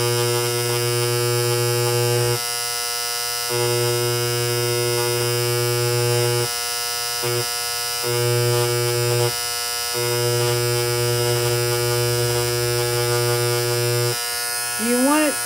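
An electric engraving tool buzzes loudly and steadily, cutting out briefly several times and then starting again, with a bright whine rising in pitch near the end.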